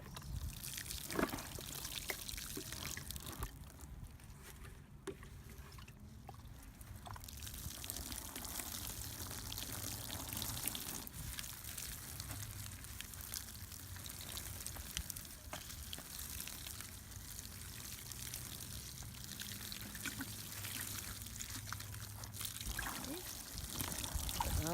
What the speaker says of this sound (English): I'm going to water this.